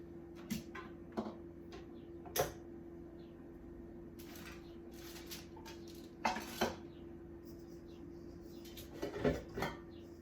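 Scattered pan clanks and knocks in a home kitchen while vanilla ice cream base is returned to the pan, a few louder metallic bumps spread over quiet background hum.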